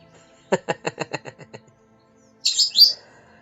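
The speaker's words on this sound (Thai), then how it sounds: "เสียงนกครับเสียงนกนกที่เลี้ยงไว้" A pet bird chirps close by: a quick run of about eight evenly spaced chirps, a brief pause, then a brighter, higher burst of tweeting.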